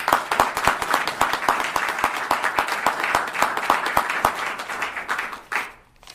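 An audience at a Rotary police award event applauds an officer, a small crowd of distinct claps in an even rhythm that stays steady before tapering off at the end.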